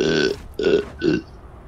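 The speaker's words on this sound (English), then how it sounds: "you threw all that up and you still had a fat ass burp in there" A drunk gamer lets out a long, loud, close burp right after throwing up while playing Halo 2 Anniversary, a drawn-out croaking belch broken into three rough pulses.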